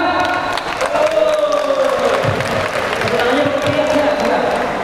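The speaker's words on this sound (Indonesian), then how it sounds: "Saya minta tepuk tangan dari kalian yang paling meriah." Audience at a guppy fish contest talk show in a city hall clapping and cheering together, a loud continuous crowd roar with applause and scattered voices throughout.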